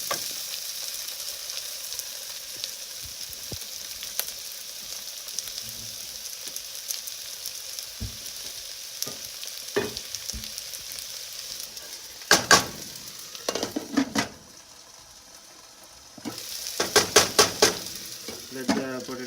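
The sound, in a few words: potatoes frying in a covered pan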